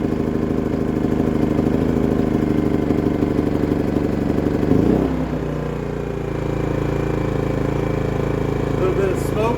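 A Dinking DK2300i-M inverter generator runs steadily right after its first start, a loud, close mechanical engine hum with a slight dip in pitch midway and a low vibrating rattle, with no talk over it.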